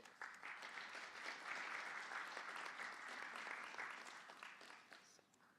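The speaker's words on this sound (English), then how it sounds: "Yes, they deserve a warm applause." Warm, steady applause from a seminar audience in Istanbul, a dense crowd of clapping hands that holds strong for several seconds, then thins and fades near the end, with no speech over it.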